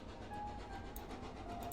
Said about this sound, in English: The noise of the train grows louder and louder.